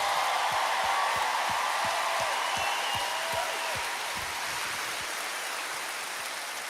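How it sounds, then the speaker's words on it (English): A big audience at the Grand Ole Opry gives a sustained round of applause, a thick wash of clapping that holds steady and then slowly eases off. "please give them a big round of applause."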